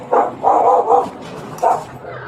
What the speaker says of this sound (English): Is that dog friendly?